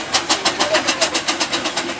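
Steam traction engines open up in the arena at a steam rally, giving a loud, rapid, evenly spaced chuffing beat of about twelve exhaust puffs over two seconds.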